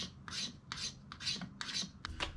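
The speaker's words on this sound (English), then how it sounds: "Get some fatwood shavings and see what we can do." An MKB7 knife scrapes shavings off a piece of fatwood in five quick, rhythmic rasping strokes, close and crisp.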